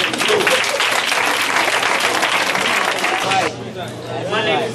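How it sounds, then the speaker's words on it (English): Audience applause for a poet named Lewis at a poetry slam, loud, dense and sustained, easing briefly near the end before swelling again, with some crowd noise mixed in. "Everybody clap your hands."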